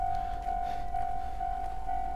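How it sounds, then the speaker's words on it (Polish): At a city level crossing in Sapporo in winter, a warning signal pulses in an even rhythm about twice a second over a low rumble as a train approaches. "Jest przejazd kolejowy w mieście. Pokazuje się, z której strony będzie jechał pociąg, czyli z lewej."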